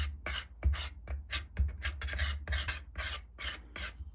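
A dark wooden handle of a Stanley Handyman hammer is scraped by hand during restoration, giving about nine close, rhythmic rasping strokes with brief pauses between them.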